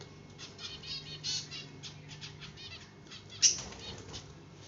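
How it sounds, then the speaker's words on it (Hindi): Birds take off and flap their wings near a watching dog, making soft repeated flutters and a few faint chirps, with one sharper burst of wingbeats. "अरे उड़ रहा है चिड़िया लोग बेटू, देखो देख रहा है।"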